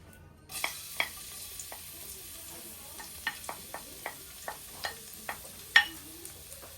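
Garlic drops into a hot pan for pork adobo and sets off a faint sizzle, followed by a regular series of sharp spatula taps and scrapes at close range, with no talk.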